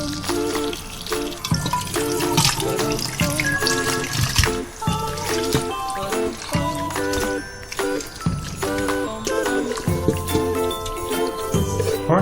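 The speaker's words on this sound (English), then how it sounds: "I'm going to rinse the salt off of my cucumbers." Tap water runs and splashes into a bowl of salted cucumbers while they are rinsed, a steady trickling stream with uneven bursts of splashing and no voices.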